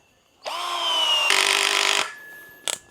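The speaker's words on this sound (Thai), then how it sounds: "เดี๋ยวผมเปิดเปิดเบอร์หนึ่งให้ดูนะครับแล้วก็ยิงสกรู" A cordless 12V DCA ADJZ1202 three-mode drill driving a screw: a close, loud motor whine that rises in pitch and strains for about a second and a half, then stops, followed by a quick ratcheting clutch click.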